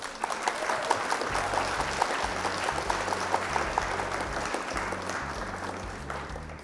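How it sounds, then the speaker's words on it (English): Steady, sustained applause from a crowd fills the whole stretch, with low rhythmic tones pulsing underneath. "of applause for our opponent."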